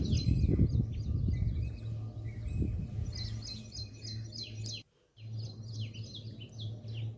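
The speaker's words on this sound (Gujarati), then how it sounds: "અહીં જે પક્ષીઓ બધું બોલે છે" Birds chirp and trill near a cave path behind the Arjuneshwar Mahadev temple, with repeated bright calls over a steady low hum. The sound briefly cuts out partway through, then the birdsong resumes.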